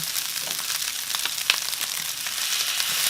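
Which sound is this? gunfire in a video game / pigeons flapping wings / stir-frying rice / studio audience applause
stir-frying rice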